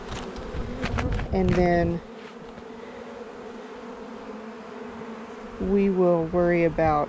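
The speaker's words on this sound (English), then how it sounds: "bees flying around" Bees buzzing loudly and close around a beehive during an inspection. A steady hum runs throughout, and someone talks over it at the start and again near the end.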